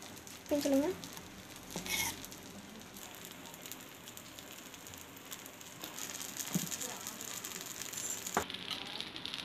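Batter with oil cooking on a hot griddle stone, a faint continuous sizzle close by with a few brief clinks and taps, and a voice heard briefly near the start.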